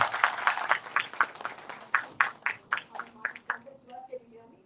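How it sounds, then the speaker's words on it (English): Applause at a corporate awards ceremony in Gurgaon, honoring the day's host: a dense burst of clapping that thins into scattered, separate claps and fades out, with a voice briefly heard near the end. "if you can have a round of applause for our host for the day, Ms. Shantini"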